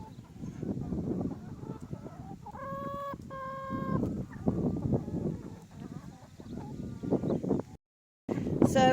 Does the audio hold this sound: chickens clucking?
yes